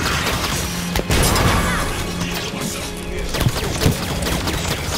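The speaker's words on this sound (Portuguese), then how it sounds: "Terceira explosão." A Halo 5: Guardians battle near the Guardian on Sunaion roars with dense, continuous explosion blasts and crashing gunfire, loud and close, with sharp impacts punching through the constant din.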